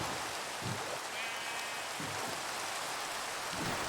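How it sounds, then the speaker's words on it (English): Rain falling in the video game Terra Lopa, a steady hiss of drops on surfaces with a few soft low thumps underneath, moderately quiet and continuous. "it started to rain"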